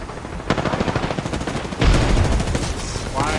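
Rapid bursts of gunfire from Apex Legends crackle in quick rattling runs, with a heavier burst near the middle, close and loud over faint game effects.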